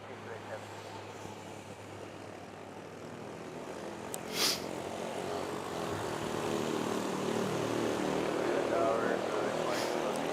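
A de Havilland DH-8 propeller plane at Manila airport (NAIA): a steady broad propeller and engine roar that builds gradually in loudness, with a brief sharper swell midway.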